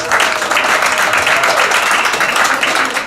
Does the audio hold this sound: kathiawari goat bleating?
no